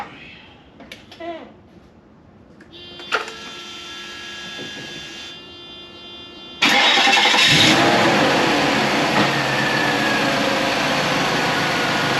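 A car engine cranks briefly and catches after a spark plug replacement, then settles into a loud, steady running sound close by, following a few quiet handling noises.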